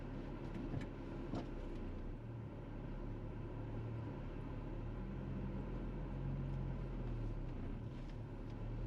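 A VR6-engined car creeps off on the clutch alone with no throttle, a low, steady engine hum and soft rumble, fairly quiet and even, with a few faint clicks early on.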